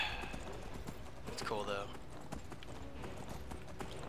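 Horse hooves clip-clop in the video game Skyrim, a steady rhythmic patter of hoofbeats under game sounds while someone talks over them.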